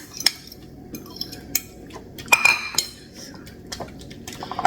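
A fork scrapes and clinks against a dish while hot eggplant salad is mixed, giving scattered sharp metallic taps and a brief cluster of clinks, close and fairly quiet, with no talking.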